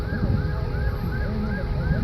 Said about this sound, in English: You can hear sirens in the background.